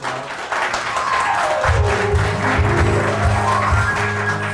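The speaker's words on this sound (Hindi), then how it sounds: "तालियां।" A crowd applauds steadily, a dense wash of clapping, with a sustained musical tone and low rhythmic notes underneath.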